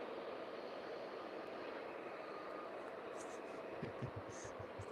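Aircraft at East Midlands Airport give off a steady, broad, distant engine roar that holds evenly throughout, with faint voices murmuring under it.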